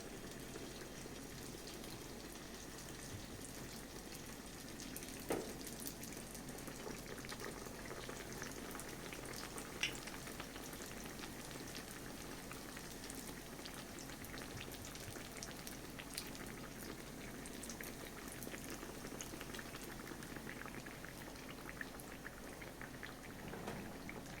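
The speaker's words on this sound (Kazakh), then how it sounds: "Майымыз қызғаннан кейін біртіндеп салып пісіріп алатын боламыз." Pirozhki frying in hot oil in a pan on a gas stove give a steady, fairly quiet bubbling sizzle with scattered crackles and pops, continuous throughout with no talking.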